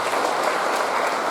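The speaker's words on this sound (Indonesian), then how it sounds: "Tepuk tangan yang besar." Steady applause from a church congregation at a Holy Trinity Sunday Mass, a dense continuous wash of clapping that stays loud throughout.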